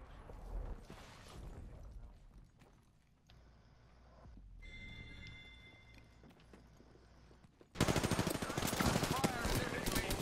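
Gunfire in the video game Apex Legends arrives as a sudden, dense, loud barrage of rapid shots near the end, after a long stretch of quiet, muffled game ambience.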